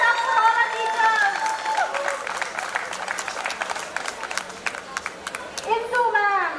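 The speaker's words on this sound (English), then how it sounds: "Clap, folks! Give it up for all our teachers!" Reunion guests applaud their former teachers with scattered, crisp handclaps beneath voices that talk at the start and end of the round.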